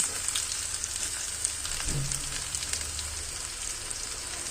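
Onions fry in oil for sambar, giving a soft, steady sizzling hiss with light crackles and a brief low clunk near the middle.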